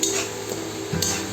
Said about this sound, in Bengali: এবার মশলাটা যতক্ষণ না তেল ছাড়া পর্যন্ত ভালো করে কষাতে থাকবে।